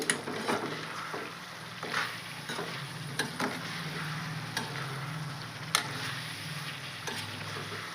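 Crushed garlic and coriander powder frying in a pan while being stirred, a close, continuous sizzle with regular scraping strokes and a few sharper knocks against the pan, no talk.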